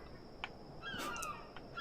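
A bird calls out in a video game, giving short bright honking cries of a few seconds over a steady high ambient tone, with no talking.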